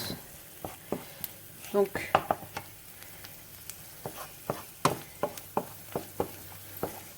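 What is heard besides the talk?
shallots sautéing in a pan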